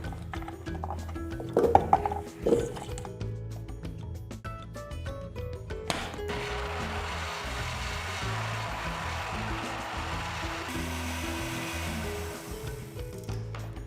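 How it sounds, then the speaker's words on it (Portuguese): A blender blending carrots and eggs whirs steadily with a grinding, rattling motor sound, briefly clattering early on before settling into continuous high-speed blending. "Agora, junto com os ovos, a gente vai bater cenoura."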